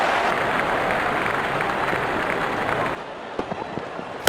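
Loud, dense applause from a cricket stadium crowd at a T20 World Cup match between New Zealand and UAE, rolling steadily for about three seconds before cutting off to a quieter background with scattered sounds.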